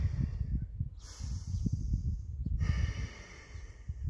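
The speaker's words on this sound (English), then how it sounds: "you're breathing through your nose the whole time" Heavy breathing through the nose during exercise, repeated forceful nasal inhales and exhales with rhythmic rasping, close up and loud, no speech.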